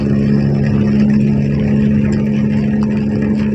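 A motorcycle's loud exhaust rumbles steadily and close by, a constant throaty drone with no break.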